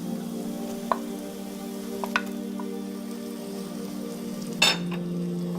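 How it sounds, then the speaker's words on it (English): Three chicken fillets brown in a hot pan with a low, even sizzle, broken by a few sharp clicks and a louder hiss near the end. "I'm going to add them in so they can just brown really, really quickly"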